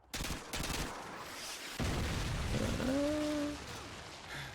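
Gunfire in a shooter game crackles in a dense rapid burst at the start, then a sustained noisy rush of shots, with a brief tonal game alert sounding partway through.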